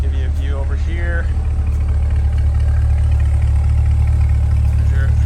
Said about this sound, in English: Here's your exhaust at idle. Sounds great.